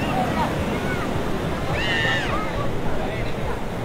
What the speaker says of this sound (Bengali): সাগরের গর্জন আপনারা নিশ্চয়ই শুনতে পাচ্ছেন